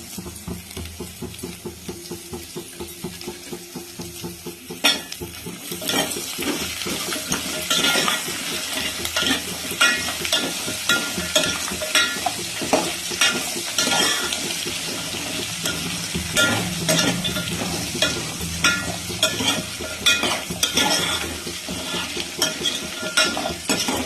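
Cashews in hot oil sizzle in a pan, then onions and green chillies go in, and the frying turns louder and denser, with spoon stirring scraping and clinking through a steady crackle.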